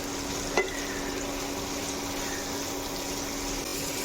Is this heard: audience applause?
no